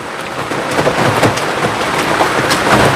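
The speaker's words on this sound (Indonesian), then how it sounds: "Ini posisinya hujan." Steady rain falls outdoors at a cemetery, a dense continuous hiss with scattered drops and patters that holds an even level throughout, with no one speaking.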